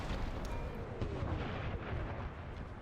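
Artillery battery firing in a Napoleon Total War American Civil War battle, a dense rolling roar of cannon blasts and rumbling booms that fills the whole clip with no talk.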